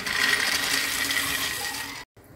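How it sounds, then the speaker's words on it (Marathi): Raw peanuts, 150 grams, sizzling in hot oil in a kadhai, a steady loud hiss and crackle that cuts off abruptly near the end, with no one talking. "तर आता या गरम तेलामध्ये आपण कच्चे शेंगदाणे मी इथे घेतलेले आहे, 150 ग्राम"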